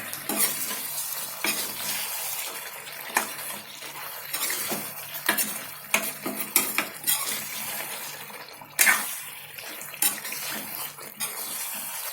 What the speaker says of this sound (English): So, let's stir it.